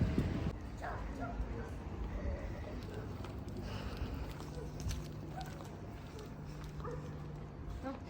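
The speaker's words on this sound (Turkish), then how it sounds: "Köpek var gel buraya." A dog barks faintly in the distance amid quiet outdoor background noise, with people talking nearby.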